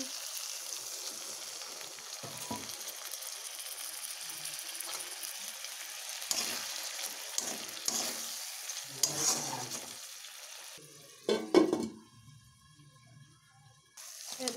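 Crab curry sizzling and frying in a pan as a spoon stirs and scrapes through it, a steady close crackle with scraping strokes that fades to quieter cooking toward the end.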